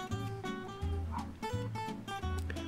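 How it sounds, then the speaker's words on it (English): Dogs bark outdoors in the desert, a run of close, repeated woofs with a regular rhythm and a short whimper between the barks. "I hear my dogs are out there barking, probably barking at the coyotes."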